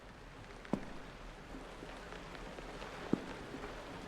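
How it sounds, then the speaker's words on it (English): Steady soft rain from the video game LUTO, a faint continuous hiss with two brief sharper drip-like ticks, heard alone without voices. "I hear rain."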